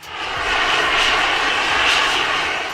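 A jet suit's engines roar in a record-setting speed flight, a steady, loud whooshing blast that holds evenly for a few seconds with no voices.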